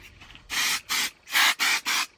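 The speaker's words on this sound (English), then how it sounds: "I kind of just spray it throughout" Five short hissing spray bursts from an aerosol can of OGX dry texture hair spray, close and fairly loud, the first two separated, the last three in quick succession.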